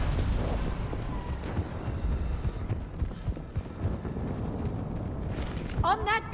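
Artillery fire support pounds the battlefield in Mass Effect 3, a continuous rumble of heavy booms and explosions with dense low-end roar, joined by shouted voices and a brief electronic chirp near the end.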